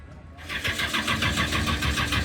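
A Ford Mustang with a naturally aspirated engine cranks and catches, settling into a loud, rough, steady idle close by.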